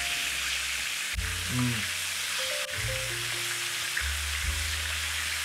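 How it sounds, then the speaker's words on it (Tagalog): Chicken wings deep-frying in oil until golden brown, a steady bright sizzle running throughout, with low tonal kitchen hums and a few clunks underneath. "Prito na to o 5 minutes lang until mag golden brown guys."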